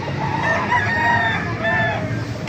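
A bulik-colored gamefowl rooster, about a year old and seen at a market in Baliuag, crows once in a close, loud, drawn-out call that fills the short clip.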